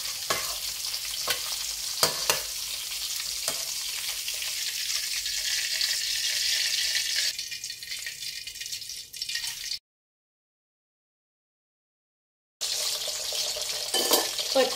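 Pork belly deep frying in hot oil on a second fry, a steady, close bubbling sizzle with occasional stirring clatter, broken by a short silent gap before the frying resumes.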